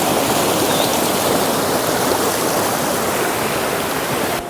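Steady, loud rush of a fast-flowing forest river, continuous and close, with no voices.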